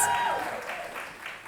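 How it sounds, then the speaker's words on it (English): Audience applause greeting a panel of speakers at a talk about books and media coverage, a steady wash of clapping that fades slightly over a second and a half, with faint voices mixed in. "Please give them a round of applause."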